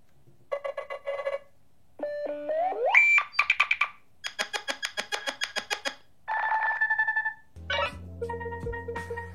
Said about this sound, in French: Comment parler de Nothing sans évoquer leur sonnerie, là aussi complètement unique.